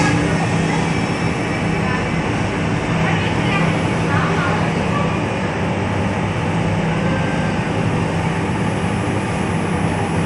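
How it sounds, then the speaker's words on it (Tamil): The GT Express pulls out of Mathura station with a loud, steady rumble of wheels and rail noise inside the coach, a constant drone over the whole stretch, with faint voices mixed in. "வண்டி மதுராலேருந்து கிளம்பிடுச்சு."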